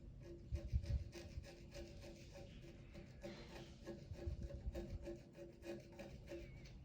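A Victorinox Scientist Engineer Swiss Army knife blade scrapes gunk off a surface in soft, repeated rasping strokes, faint and close, with no talking.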